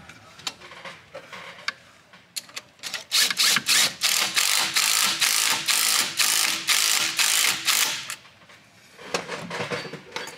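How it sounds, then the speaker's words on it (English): Ratchet wrench with an 11 mm socket tightening turbo up-pipe bolts on a 6.0L Power Stroke diesel, a rapid series of loud, close clicking strokes in rhythmic bursts, with a few scattered clicks before and after. "Okay, we'll grab our 11, we'll tighten up the up pipe."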